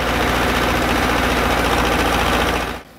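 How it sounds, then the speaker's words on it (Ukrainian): A tractor clearing self-seeded saplings between rows of young forest trees runs as a loud, steady engine drone with low rumble throughout, then fades near the end. "Ліс, якому 5 років і більше, обробляють іншим трактором."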